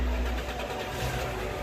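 A 2.0-liter stock car engine turns over and settles into a steady, smooth idle at close range, with a low continuous rumble throughout.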